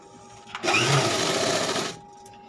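Sewing machine running a stitch along a blouse seam, one steady close burst of whirring lasting about a second and a half, starting and stopping abruptly, with no talk over it.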